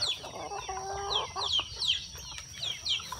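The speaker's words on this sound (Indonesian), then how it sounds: "ini saya diserbu sama ayam-ayam ini" Several chickens on a cattle farm cluck and squawk in short bursts close by, with brief rising calls repeating every half second or so over a quiet morning background.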